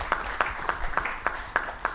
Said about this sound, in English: I request us to appreciate them by clapping.